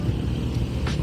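A Maruti Alto LXi small hatchback backs slowly into a parking spot, its engine giving a steady, close low rumble for a brief moment.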